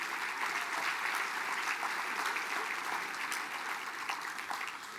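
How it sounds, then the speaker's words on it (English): A Mille Lacs Band of Ojibwe assembly audience gives sustained, even applause, a dense distant wash of clapping hands at low volume. "How about a round of applause for our employees doing the hard work,"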